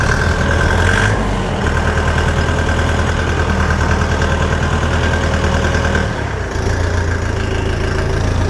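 A Dong Feng 404DHL mini tractor engine runs loud and close, a steady diesel chug with a brief dip in revs partway through as gears are shifted.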